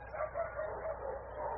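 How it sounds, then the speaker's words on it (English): Several dogs bark from a distance at night below a rooftop in Tangier, Morocco, a steady run of overlapping yips and barks at moderate volume with no talk. "Those dogs down there, are they that loud every night"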